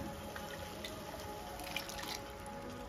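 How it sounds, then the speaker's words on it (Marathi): Water poured into freshly ground masala in a pan for a Malwani clam curry: a faint, continuous trickle with light drips, low and even throughout. "ह्याच्यात थोडासा पाणी ॲड करून"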